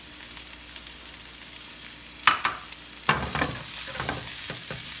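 Onions hiss and sizzle in hot oil on medium-high heat, a steady close fry with a few sharp clatters and scrapes as they are tossed in and stirred.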